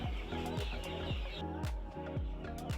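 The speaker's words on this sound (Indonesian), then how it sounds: "untuk program ketahanan pangan di Lapas Permisan saat ini mengembangbiakkan ayam jenis chopper dan ayam pedaging" Broiler and meat chickens being raised on a prison farm, several hens clucking in quick repeated bursts close by, steady and continuous over a busy farmyard background.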